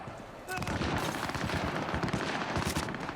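Rapid gunfire in Cyberpunk 2077, bursts of automatic shots kicking in suddenly and continuing as a loud, dense rattle with sharp repeated cracks, near and prominent.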